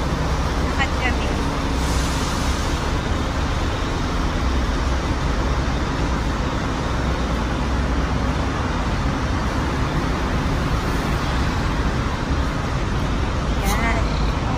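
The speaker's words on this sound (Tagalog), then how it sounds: "Pasensya na, maingay kasi marami ditong sasakyan." Dense, steady road traffic roars continuously near Bangkok, Thailand, with many cars, buses and trucks passing close by; a person speaks over the constant din.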